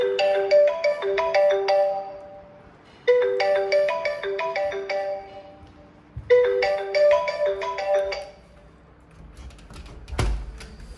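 A melodic phone ringtone plays three repeated bursts of bright tones, followed by a short thump and a click as it stops.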